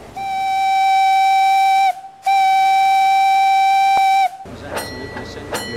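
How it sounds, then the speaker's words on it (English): Two long, loud steady blasts of a canal boat whistle at Batchworth Lock, the second followed by a short burst of crowd noise and clatter. "they would make their whistle on bends and blind areas to warn oncoming boats"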